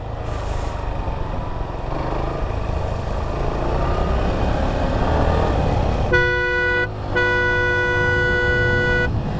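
A motorbike horn honks in two long steady blasts near the end while riding in rain along Marine Drive at Cox's Bazar, over continuous wind and road noise.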